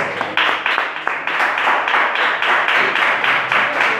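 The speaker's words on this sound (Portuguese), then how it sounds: "Aplauda o nome do Senhor Jesus" A church congregation claps in a steady rhythm, loud, bright hand claps repeating in unison for several seconds.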